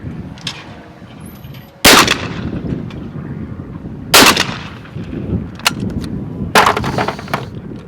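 Three loud, sharp shots from a Webley & Scott XSP shotgun, evenly spaced a couple of seconds apart, each with a quick decaying outdoor tail.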